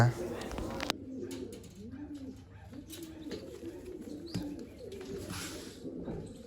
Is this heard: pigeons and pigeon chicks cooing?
yes